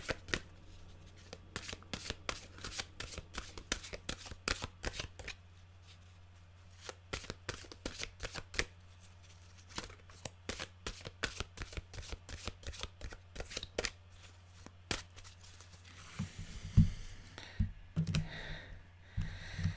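A deck of oracle cards being shuffled and cut, with rapid riffling bursts and sharp card snaps repeating throughout, close and crisp, followed by softer handling and a few faint sounds near the end.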